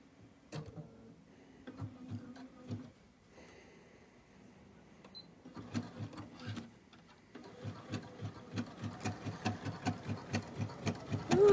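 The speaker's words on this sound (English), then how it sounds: "I am gonna sew this part together" A home sewing machine stitches pieces of a no-pattern fabric bowl together, fitted with a size 90 needle and running a little dry for lack of oil. Short bursts give way to a steady, quickening run of rapid, close, mechanical stitching with no talk.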